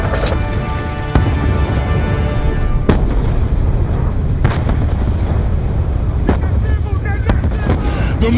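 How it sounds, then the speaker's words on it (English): Mortar and artillery fire in the Call of Duty Black Ops 2 battle, heavy booms and blasts landing repeatedly over a constant loud rumble, with voices shouting in between. "The mortars have stopped!"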